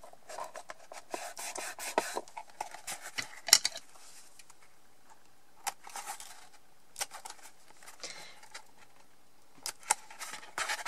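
Cardboard being cut along the sides of a handmade coffin-shaped Halloween box, close and quiet, with intermittent scissor snips and rubbing scrapes spread in irregular bursts, no talking.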